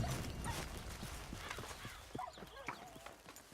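Horse hooves clip-clop in Red Dead Redemption 2, a run of sharp, evenly spaced hoofbeats near the end over a low game ambience and background noise.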